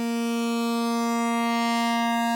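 Arturia Jup-8000V software synth playing a sustained sawtooth tone with detuned oscillators stacked at the same pitch, a steady bright buzzing chord-like drone held alone without pauses.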